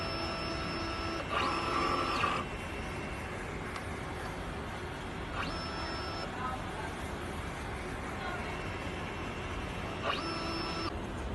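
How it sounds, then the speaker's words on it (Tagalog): A DTF printer runs a print head cleaning cycle: three distinct mechanical whirring pulses spread over several seconds, with quieter motor hum between them, close and moderately loud. "Ganito po ang tamang pag-head clean."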